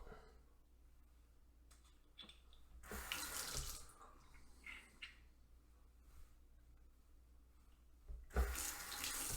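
Tap water runs into a sink while shaving lather is rinsed off a brush or razor, faint and steady at first, then swelling into louder bursts of flow and splashing.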